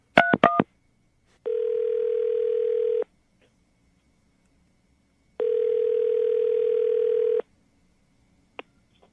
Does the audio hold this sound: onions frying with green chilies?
no